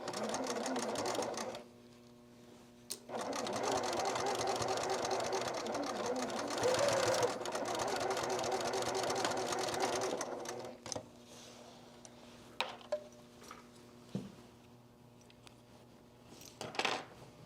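A sewing machine stitches a zipper pouch in long continuous whirring runs broken by short pauses, then gives way to scattered clicks and handling of fabric and tools, close up and fairly quiet.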